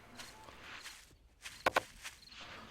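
Several zombies from a horde trudging along in the survival video game 7 Days to Die, uneven footfalls scuffing at a middle distance, with a couple of sharper, louder steps standing out partway through.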